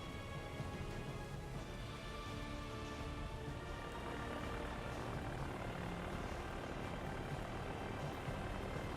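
Small spotter planes in a World War II naval video game drone with a steady, even engine roar, continuous and fairly faint beneath a broad noisy wash, without speech.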